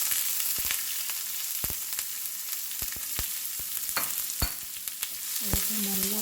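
Mustard seeds, fennel, dried chilies, curry leaves and onion crackle and sizzle in hot oil, a dense close hiss broken by sharp pops and stirring scrapes.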